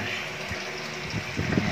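Water falling through a small round tube of a custom-made overhead aquarium filter, a close, steady trickling splash with a few louder gurgles toward the end.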